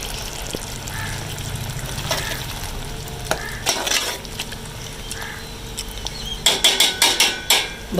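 Chicken keema stirred and fried in a pan, a continuous sizzle under scattered scraping strokes of a spoon that build into a quick run of sharp clanks near the end, close and fairly loud.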